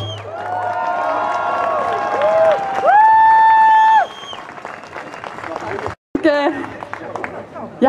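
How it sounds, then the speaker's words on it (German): Applause and cheering from an outdoor crowd at a large demonstration in Salzburg, loud and sustained, with a sharp brief cutout near the end as scattered clapping and crowd noise continue. "Bitte einen herzlichen Applaus für die Lisa Meierweg."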